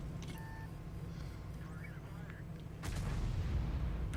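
Artillery fire strikes a charioteer in a tank battle video game: a steady low rumble of battle noise gives way to a sudden heavier boom and crackle of impact that carries to the end.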